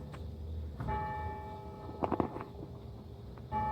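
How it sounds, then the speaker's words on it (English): A bell rings out in resonant, sustained strikes, its long humming tones overlapping against a steady background murmur, with a brief clatter of sharper sounds midway. "Bells are ringing."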